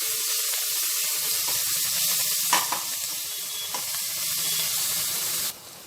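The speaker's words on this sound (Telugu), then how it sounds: "ఈ అల్లం వెల్లుల్లి పేస్ట్ కూడా పచ్చివాసన పోయేంత వరకు ఫ్రై చేసేసుకోవాలి" Ginger garlic paste sizzles and fries in a pan for a mutton curry, a steady close hiss broken by a few sharper spits and stirring scrapes, then it drops away near the end.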